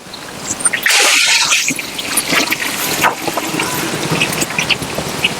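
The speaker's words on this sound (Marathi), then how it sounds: "तर आता 15 लिटर पण पाणी टाकायचं आहे" About fifteen litres of water poured into a large pot of oil-based masala gravy at a rice shop, a loud gushing splash that settles into ongoing trickling and sloshing, with no talking.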